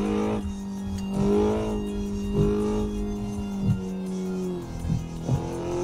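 Red car engine in a driving video game replay, a steady mid-pitched engine drone that revs up in repeated short surges with brief tire-like bursts, fairly loud with no talking.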